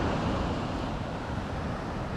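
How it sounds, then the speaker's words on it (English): Big waves breaking over a gradually sloping reef on the wild North Sea coast of Scotland, a steady loud wash of surf mixed with wind rumble on the microphone, with no voices. "the reef under the water here must be gradually sloping up, causing these big rip curlers"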